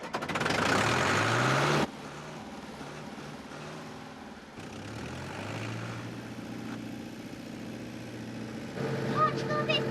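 An old farm tractor's engine runs steadily nearby with a low droning rumble, a louder burst at the start, then a sustained throaty hum with shifting pitch as it drives along a country setting.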